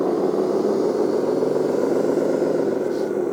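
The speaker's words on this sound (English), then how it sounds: "Hear the engine sound," Simulated engine sound from a LESU 1/14 8x8 hydraulic hooklift dumper RC truck with crane, a steady loud droning idle with an even low rumble that holds without change throughout.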